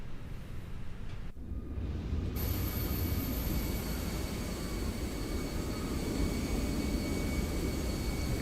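A Fenix A319 airliner takes off in Microsoft Flight Simulator 2024: a steady, loud, broadband engine roar with a faint mechanical rattle and whine, holding constant as the jet rolls down the runway.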